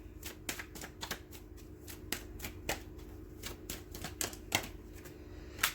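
Tarot cards being shuffled by hand, a string of crisp riffling snaps and slaps coming in quick irregular bursts, close and clear over a quiet background hum.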